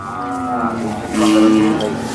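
A Khillar cow at a livestock market near Sangola gives two drawn-out moos close by, with crowd murmur and distant voices in the background.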